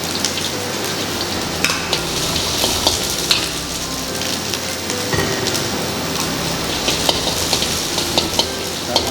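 Spice paste and tempeh stir-fried in a little oil, a steady dense sizzle with scattered sharp crackles and pops from the pan, close and continuous throughout with no talking.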